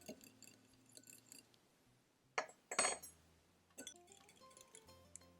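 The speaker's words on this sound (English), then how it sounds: "I'm going to go ahead and stir these again." A spoon stirs a flax and chia seed egg replacer in a small dish, with quiet clinks and a few louder scrapes and taps against the glass.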